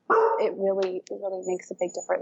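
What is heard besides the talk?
dog barking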